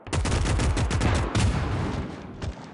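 Rapid volleys of WWII-era gunfire in a multiplayer battle, a dense burst of sharp, loud shots and heavy thuds rattling in quick succession before trailing off, with no talk.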